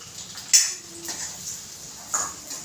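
Semolina tipped into a hot pan for mango sheera, with a couple of brief metallic clinks of a spoon against the pan and soft scraping between them, fairly close and quiet.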